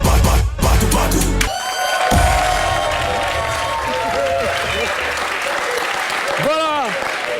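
Audience at an awards ceremony in Côte d'Ivoire applauds and cheers loudly and continuously, with a dense wash of clapping and scattered whoops while a voice speaks over the crowd.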